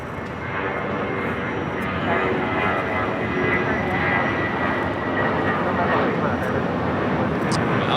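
Steady, loud roar of airliner jet engines at Los Angeles LAX airport, a broad continuous rumble and whine holding close and unbroken throughout.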